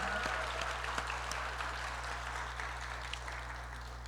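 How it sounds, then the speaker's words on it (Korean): Congregation clapping during a Korean Sunday worship service at church, a moderate, continuous patter of applause over a steady low electrical hum, with a few sharper individual claps standing out. "부활하신 예수 그리스도께 박수로 우리 영광을 올려드리기를 원합니다."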